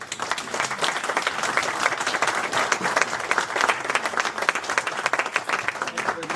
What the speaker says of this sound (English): So please give a round of applause to the panel here.